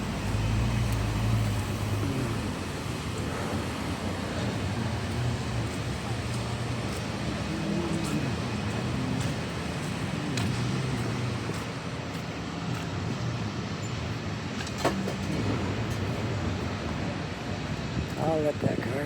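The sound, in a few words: car passing by on street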